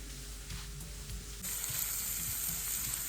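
Finely chopped ginger and garlic frying in a pan give a steady close sizzle that grows brighter and louder partway through, with soft stirring and no speech.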